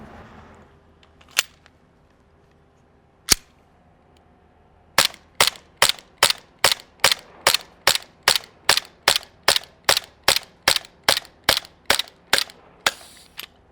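Sig Sauer P229 airsoft gas pistol firing: two isolated sharp shots, then a rapid, steady string of about twenty crisp pops, close and loud, with the last few slightly weaker as the gas runs low.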